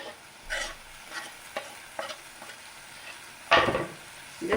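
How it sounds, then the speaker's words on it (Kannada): Boiled potatoes with coriander leaves are stirred in a hot pan for aloo palya, a masala dosa filling. A spoon scrapes in several separate strokes over a soft sizzle, and a louder scrape comes near the end. No one speaks. "ಈಗ ಚೆನ್ನಾಗಿ ಮಿಕ್ಸ್ ಮಾಡಬೇಕು,"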